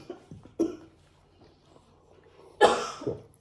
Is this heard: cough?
yes